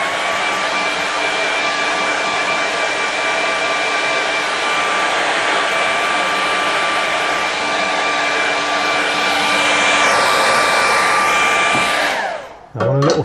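A hair dryer blows steadily and loudly up close, drying a wet watercolour painting, then cuts off abruptly near the end. No voices.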